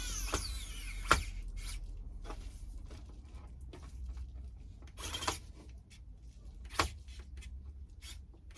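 Small screws are driven by hand into a plastic INJORA RC crawler body for a Camel Trophy build, heard as faint scattered clicks and scrapes with a few sharper ticks over a quiet background.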